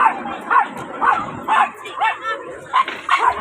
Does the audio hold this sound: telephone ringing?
no